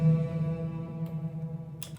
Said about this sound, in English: This first layer is a digital gong.